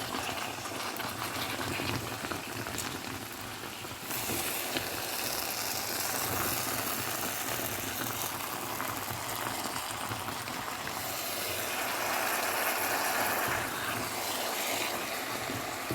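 Yam, potato and plantain porridge cooking in a covered pot, a continuous bubbling, hissing simmer heard close and steady for the whole stretch without speech.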